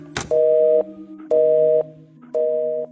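A telephone line gives a click and then three evenly spaced steady tones, each about half a second long with short gaps between them, like a busy or disconnect signal after the caller hangs up.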